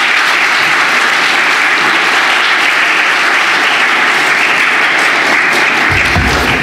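A Korean church congregation claps loudly and continuously to welcome a pastor, a dense, even applause that runs the whole time.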